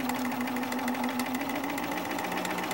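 A sewing machine stitches a seam in fabric, a loud, close, steady whirring drone with a fast, even mechanical pulse running throughout, with no voices.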